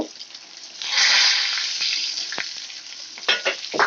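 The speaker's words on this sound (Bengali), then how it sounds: "আমি মাছগুলো লাল করে ভেজে নেব।" Pieces of katla fish fry in hot oil in a home kitchen, a close, steady sizzle that swells and eases, with a few sharp spatters and crackles toward the end.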